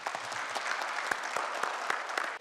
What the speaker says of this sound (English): Dr. Wushe, please, a big round of applause.